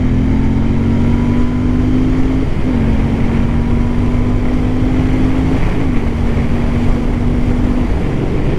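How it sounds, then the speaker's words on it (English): A Royal Enfield Continental GT 650 motorcycle with a DNA air filter rumbles steadily while riding, a constant loud engine drone with a low tone that dips slightly in pitch twice as the ride goes on. "I'm hearing this thing rumbling underneath"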